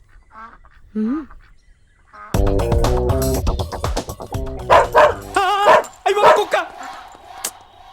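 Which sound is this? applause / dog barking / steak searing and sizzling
dog barking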